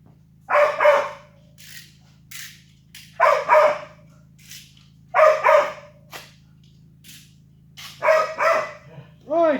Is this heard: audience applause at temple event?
no